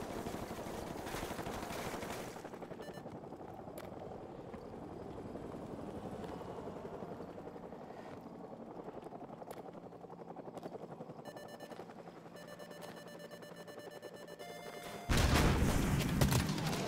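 Enemy helicopter hovering over a farm in Call of Duty Modern Warfare Remastered, its rotor thudding steadily while machine-gun bursts and scattered gunshots crackle, ending in a loud blast of fire.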